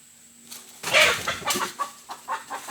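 Chickens cluck in a quick series of short, fairly close calls, rising in a burst and then trailing off into softer repeated clucks.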